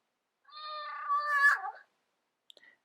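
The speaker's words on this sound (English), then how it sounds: "They saw cats." A single drawn-out cat meow, close and fairly clear, lasting over a second, followed by a couple of faint ticks in otherwise quiet surroundings.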